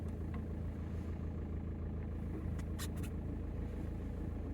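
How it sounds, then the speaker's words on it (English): A BMW 525d diesel engine idles steadily with a low, even rumble, close by and continuous, with a few brief higher clicks or rattles partway through. "Anyway, let's just try and listen for that flywheel noise,"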